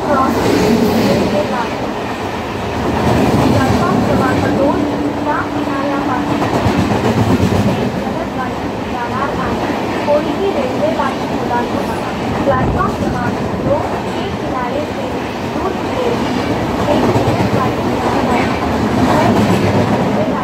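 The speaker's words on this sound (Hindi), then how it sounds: "Platform number 2, fast train is passing." A fast train roars through a Mumbai suburban local platform, a loud continuous rumble and rail clatter for the whole stretch, with faint voices in the background.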